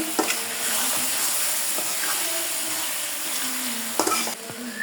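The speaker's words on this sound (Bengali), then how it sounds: "দিয়ে দেব মশলার সাথে একটু ভালোভাবে কষিয়ে নেব" Cut potatoes frying with spice masala in a pan for a small-fish curry, a steady close sizzle broken by scraping stirs and a few sharp clatters.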